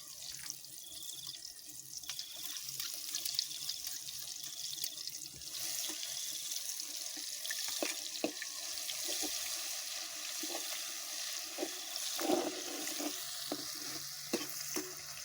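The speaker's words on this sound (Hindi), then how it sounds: "ऑयल पहले से गर्म है, अब इसमें शामिल करेंगे। लहसुन को हम इसमें फ्राई कर लेंगे।" A continuous sizzle of garlic frying in hot oil, with occasional stirring clinks and light clatter nearby.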